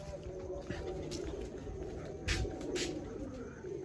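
Pigeons in a loft give soft low coos, faint and somewhat distant, over a steady background murmur.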